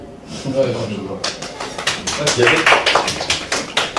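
Classroom audience applauding, starting after a short stretch of voices and building into a busy, irregular patter of claps that continues to the end, with talk mixed underneath.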